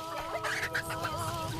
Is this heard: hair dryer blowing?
no